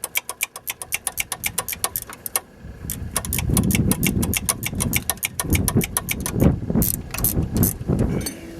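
A VW Jetta TDI diesel cranks with a rapid run of starter clicks and turns over, then catches and settles into a loud, close, clattering idle that runs unevenly to the end.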